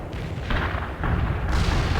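Heavy artillery barrage in World in Conflict: a dense, roaring wall of shell blasts and rumbling impacts, loud and continuous with sharper bursts near the start, middle and end.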